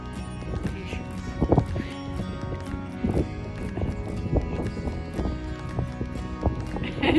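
Hooves of a mare and her foal thud and clop over pasture ground in an uneven, shuffling rhythm, with a few heavier strikes standing out against steady outdoor background noise.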